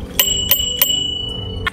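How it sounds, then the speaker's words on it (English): A bicycle-style bell on a Razor electric moped rings three times in a quick, even rhythm, then once more after a pause, close and clear with a short ringing tail after each strike. "This came with a bell, so."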